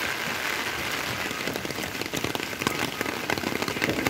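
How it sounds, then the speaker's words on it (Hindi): Heavy rain pouring down steadily in Daejeon, South Korea, a dense loud hiss of drops drumming on surfaces with no voices. "मस्त नहीं ज़बरदस्त बारिश हो रहा है,"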